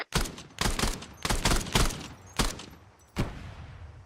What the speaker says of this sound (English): Is that the BTR cooking off?